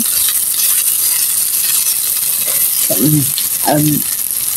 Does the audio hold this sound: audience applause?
no